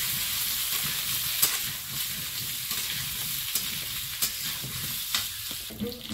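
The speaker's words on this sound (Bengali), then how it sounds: "এর মধ্যে একটু আদা বাটা দেবো, তেলের মধ্যে আলুটা দিয়ে দেবো," Potatoes frying in oil with whole cumin and ginger paste, a steady, loud hiss and crackle close by, with occasional stirring knocks against the pot.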